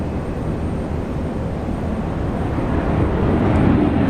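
A Rex Airlines passenger plane touching down at Brisbane airport, its steady broadband engine roar rising slightly in loudness toward the end, fairly close and continuous with no voices.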